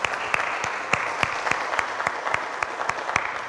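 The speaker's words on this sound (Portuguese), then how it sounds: "Uma salva de palmas ao nosso Deus," Congregation clapping during a church service, a crowd's even rhythmic applause with sharp, loud individual claps punching through at fairly regular intervals, close and continuous throughout.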